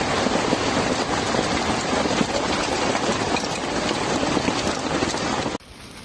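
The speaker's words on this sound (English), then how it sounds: "the short-term downpour gave way to hail" A heavy downpour of rain mixed with hail hammers the streets of Istanbul in a loud, dense, continuous roar of impacts. It drops off abruptly near the end.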